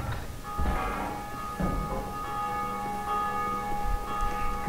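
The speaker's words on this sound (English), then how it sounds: "Ring the bell, open the gate." A large bell rings in the dark fantasy game Dark Souls II, deep resonant strikes repeating about once a second, each leaving a long shimmering ring, loud and alone.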